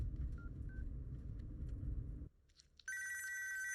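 A telephone rings with a bright electronic trill that cuts in sharply after a low rumbling background falls away, near and steady to the end.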